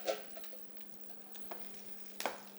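Lamb rendering and frying in its own fat in a pan, a quiet, steady sizzle with a few soft clicks and small pops, close and alone without talk.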